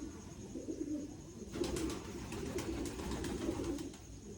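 Pigeons perched on a loft roost give soft, low cooing, faint and steady against quiet background hiss.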